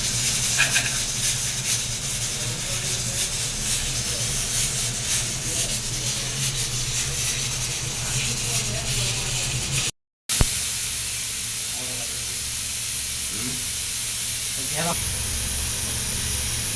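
A pressure cooker cooking fish lets off a steady, loud hiss of escaping steam that runs almost without a break, briefly cut off and then resuming, with people talking underneath.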